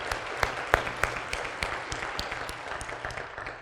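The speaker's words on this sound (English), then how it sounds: "One more round of applause to someone who's done it before." A dinner audience at a college president's council event gives a round of applause, dense steady clapping with a few sharper claps standing out, no voices on top.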